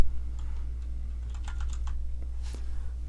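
Keys clatter on a computer keyboard while a name is entered in the Rigs of Rods vehicle simulator, with a run of light, close clicks over a low steady hum.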